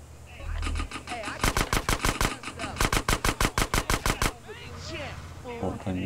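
Automatic gunfire in the video game GTA San Andreas: loud, rapid bursts of evenly spaced shots in two long volleys, followed by scattered quieter game sounds.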